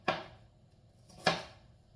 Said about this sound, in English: We are just going to go ahead and dice this.